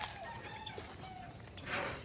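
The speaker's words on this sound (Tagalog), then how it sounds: "So, ang kulungan na to para sa mga inahin." Hens in a chicken coop, soft clucking close by against a low background hum of the birds.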